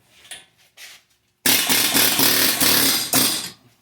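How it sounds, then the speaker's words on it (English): An air hammer bit presses an axle out of a front wheel bearing assembly on a Town and Country, giving a few short taps and then a loud, continuous rattling burst of about two seconds with a brief pause near the end. "So we'll go and stick our air hammer bit right there and then just press the axle right out of the bearing assembly."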